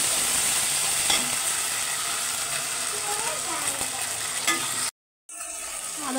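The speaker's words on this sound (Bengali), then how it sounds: "আদা রসুনটা হালকা করে ভেজে নিয়েছি" Ginger garlic paste frying in a pan for a Bengali fish-head muri ghonto, a steady close sizzle with faint stirring scrapes, cut off by a brief silent gap near the end.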